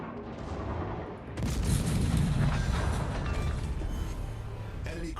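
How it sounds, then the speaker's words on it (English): A battleship in World of Warships firing high explosive shells, a heavy booming salvo that swells after a second and rolls on in a loud, rumbling wash with smaller cracks following. "Some high explosive shells instead and see if those hit."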